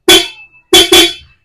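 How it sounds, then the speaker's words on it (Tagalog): Dual car horn wired through a relay, sounding during a test with a wire disconnected: one short loud blast, then a pause, then two quick blasts close together, each ending abruptly. "Pag tinanggal niyo yung positive ng busina, dapat tutunog siya."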